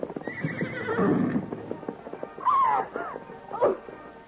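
A radio drama sound effect of a horse: a shrill neigh and whinny, then a second, shorter whinny, over softer hoof clip-clops.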